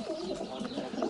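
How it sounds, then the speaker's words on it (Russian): Fighting pigeons in a keeper's loft cooing softly and steadily, a close, low murmuring coo running through the whole short stretch with no talk. "Вот такие вот голуби."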